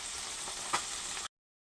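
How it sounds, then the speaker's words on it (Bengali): Morla fish fry in hot oil with a dense, steady crackling sizzle and one brief louder spatter, then the sound cuts off abruptly. "মোরলা মাছগুলো ভেজে নিচ্ছি"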